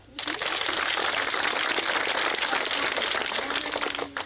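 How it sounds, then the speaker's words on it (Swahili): Applause from a gathered crowd at the commissioning of a new early-childhood classroom at a hill school, a steady wash of clapping sustained for about four seconds before tapering off. "Makofi."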